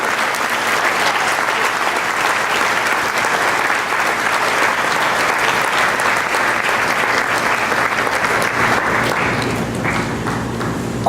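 A church congregation applauds loudly and steadily for the whole stretch, a dense continuous roar of clapping that eases slightly near the end.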